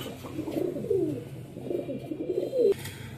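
Caged pigeons of a red checker pair at a farm coo up close in repeated low, throaty rolls, several calls following one another with brief gaps.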